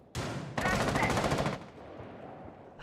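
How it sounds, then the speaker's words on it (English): Rapid automatic gunfire from a Rainbow Six Siege match, a loud sustained burst of about a second and a half followed by fading quieter rattling and distant shots. "Now just as we see bullets flying."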